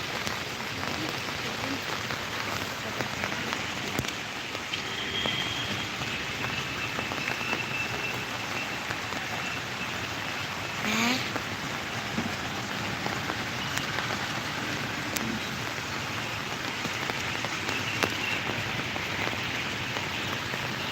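Steady rain falls continuously by the Meenachil River, a dense even hiss of drops on surfaces with occasional louder drips, no voices.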